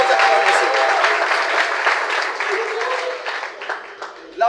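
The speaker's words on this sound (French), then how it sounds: "Vous ne voulez pas acclamer pour notre coordonnateur national?" An audience at a vocational training ministry event applauds the national coordinator, a loud, dense round of clapping with crowd voices mixed in that thins out near the end.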